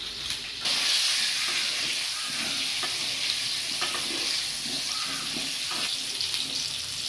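Potatoes seasoned with salt and turmeric fry in hot oil for a chicken curry, sizzling steadily while a spatula stirs and scrapes them in the pan at several points.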